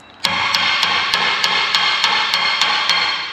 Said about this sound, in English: I think I can tap it over with a hammer